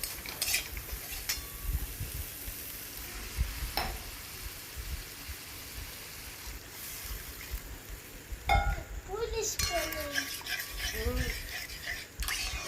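Spice masala with Kashmiri chilli powder being stirred and fried in a pan for a Bengali bhola fish curry, with scraping and sizzling at close range, a voice speaking intermittently over it.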